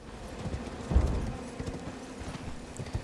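Horse hooves in Elden Ring, a steady rhythmic clopping of galloping under a dense, rumbling game soundscape, with a louder thump about a second in.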